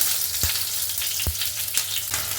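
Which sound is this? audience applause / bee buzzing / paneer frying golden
paneer frying golden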